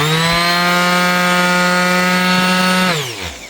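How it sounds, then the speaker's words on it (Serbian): A Parkside PMS 160 B2 multi-purpose sander runs with a loud, steady motor whine for about three seconds, then switches off and winds down, pitch falling into quiet. "tako da sad uključio sam brusilicu, sada je uključimo"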